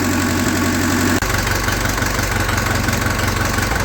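A 1948 Ford 8N tractor engine idling steadily, a close, even low chug with a constant rhythmic knock and no voices.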